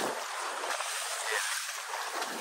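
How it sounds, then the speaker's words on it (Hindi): Strong sea waves slap and rush around a small fishing boat out on the deep sea off Langkawi, Malaysia, a dense, steady roar of water and wind that never lets up. "यहाँ पर पानी की लहरें बहुत तेज़ हैं।"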